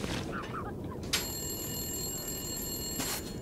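A telephone bell in The Long Dark rings in one sustained metallic trill of about two seconds over a constant rumbling ambience, with brief talk before it.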